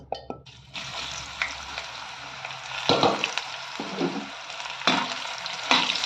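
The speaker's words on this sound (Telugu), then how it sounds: "ఇప్పుడు ఈ శనగపిండి వరిపిండి కలిపి మన బెండకాయ కూడా ఫ్రై చేసుకోవాలి." Okra coated in gram flour and rice flour fries in hot oil with a steady close sizzle, broken by several louder bursts of crackling and stirring.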